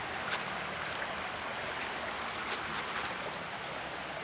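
The Kali Kuning river flows in a steady, broad rush of water that fills the whole stretch evenly, with no voices over it.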